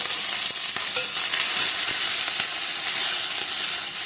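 Onion vadagam, green chillies, curry leaves and crushed garlic fry in hot oil for a home breakfast or lunch dish, giving a steady, close sizzle with a few soft stirring knocks and no talk.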